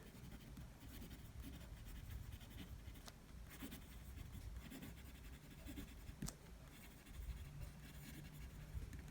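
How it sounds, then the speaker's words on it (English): Faint, steady scratching of a fountain pen nib across coated Rhodia paper, close up, with a few slightly sharper strokes. "you can hear that feedback, so you know you're writing on the page"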